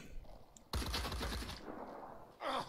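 A short loud burst of rapid gunfire in the tactical game Phoenix Point, a dense rattling volley that tails off, followed by a brief second shot near the end.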